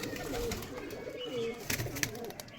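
Giribaz pigeons from Rajshahi coo softly and repeatedly, low rolling calls close by, with light rustling and a few clicks in the background.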